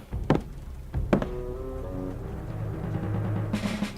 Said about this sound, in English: Wow, that was a loud gunshot.